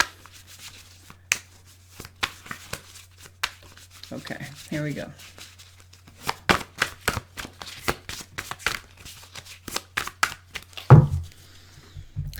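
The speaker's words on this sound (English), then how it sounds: "I have to shuffle it a little bit more." Tarot cards shuffled close up in a quick run of crisp riffling snaps, with a brief spoken phrase near the start.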